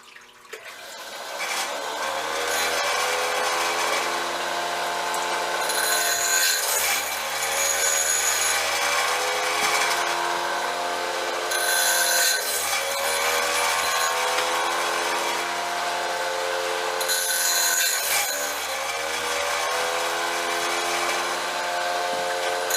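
A sawmill blade sharpening machine runs at close range with a steady motorized whine and grinding hiss. A rhythmic swell marks each pass every few seconds.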